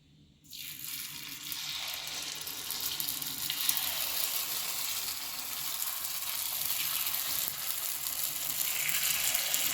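Mixed dal appe batter sizzles steadily in a hot appe pan. The frying sound rises suddenly as the batter goes in, then holds as a continuous crackle, close and fairly quiet, with no talking.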